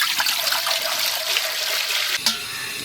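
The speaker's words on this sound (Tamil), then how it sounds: "தண்ணி சேர்த்துக்கலாம்." Water pours steadily into a container of elephant yam, a continuous rushing splash that ends with a brief clink.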